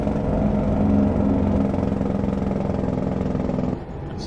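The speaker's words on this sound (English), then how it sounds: "That's some good sounded engine brake." A truck's engine brake in American Truck Simulator gives a loud, sustained rumbling drone for several seconds, then drops off sharply near the end, with no talking.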